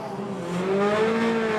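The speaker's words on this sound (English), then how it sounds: "Lovely start, matches the revs, clutch, drop and throttle perfectly" Onboard a BTCC touring car at the start of a 2025 Brands Hatch GP race, the engine revs climb steadily and loudly under acceleration, with a rising tone and no voices.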